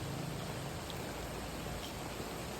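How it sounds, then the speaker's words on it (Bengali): Steady rain falls on a walk, with an umbrella held over the camera, making a faint, even hiss with no distinct drops or voices. "কি সুন্দর বৃষ্টি"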